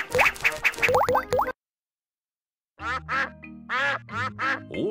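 Cartoon ducks quack in short harmonic bursts in the Peppa Pig: Fun and Games video game, a quick cluster of calls, then a silent gap, then several more quacks over a low musical backing.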